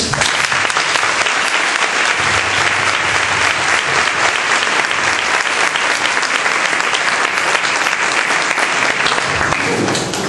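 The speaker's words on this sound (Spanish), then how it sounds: "Así que compañeros, aplaudid." A graduation ceremony audience at a secondary school in Spain breaks into loud, sustained applause, dense clapping filling the whole stretch without a break.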